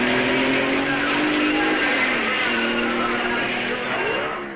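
A 1955 Belgian Grand Prix racing car, number 24, pulls away from the pits, its engine a loud, sustained drone that climbs in pitch as it accelerates, with a steady wash of crowd and track noise behind it.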